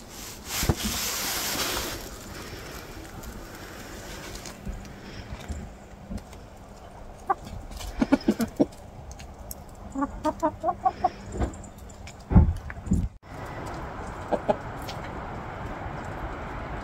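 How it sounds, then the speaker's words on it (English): Backyard chickens cluck and peck through a pile of freshly split wood. Their soft clucks and short calls come in scattered bursts, close by, over a faint outdoor background with no talk. "the chickens have ventured over to see what I was doing"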